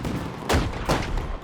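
Diwali firecrackers going off in two sharp, loud bursts about half a second apart, each with a short crackling tail, over steady background noise with no one talking.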